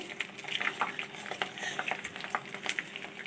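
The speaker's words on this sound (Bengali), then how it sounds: "এবার এর মধ্যে দিয়ে দেব থেতো করে রাখা রসুনের কুচি গ্যাস খুব লো ফ্লেমে দিয়ে রাখবো" Crushed, chopped garlic frying in oil in a pan over a very low flame, a steady soft sizzle with faint crackles and occasional stirring scrapes, close and continuous with no talking.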